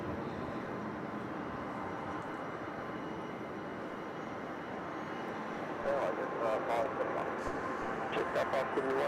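Aircraft engines at Melbourne Airport, a broad, steady roar that swells slightly louder toward the end, with people talking over it.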